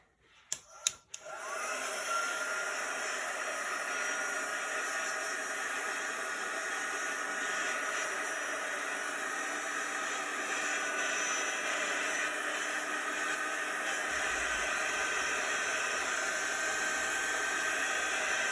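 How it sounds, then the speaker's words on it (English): A small handheld quick-dry heat tool blowing air over a chalk craft design, clicking on after a few handling knocks and then running as a steady, even whooshing hum for a long stretch. "let's get our little quick dry tool"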